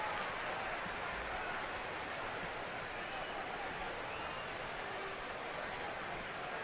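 Dense, steady roar of a large evening crowd in a baseball ballpark, with scattered clapping and cheering, continuous and fairly distant throughout.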